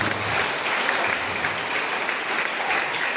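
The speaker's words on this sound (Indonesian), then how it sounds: "Kita tepuk tangan untuk" Steady, dense applause from a church congregation at a thanksgiving Mass for a newly ordained priest, sustained and even throughout with no talking over it.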